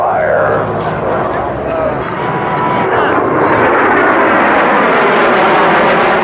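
A loud, continuous jet roar from military aircraft, among them a stealth bomber, at an air base open day in Las Vegas, steady and swelling with broadband rushing noise, with voices underneath.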